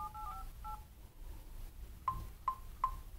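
Keypad tones from the dialer of a Xiaomi Redmi 3 phone: a quick pair of dual-tone beeps, then three evenly spaced single beeps, clear and close over a faint background hum.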